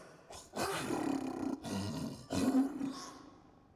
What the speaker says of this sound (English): Yes, indeed, a lion, or a tiger, or a liger, or some huge cat.